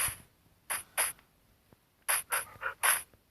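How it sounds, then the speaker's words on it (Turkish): A dog in the Minecraft video game makes several short breathy panting bursts, a pair, then a quick cluster of three or four, close and clear over near silence. "Köpeğimiz arkadan geliyor."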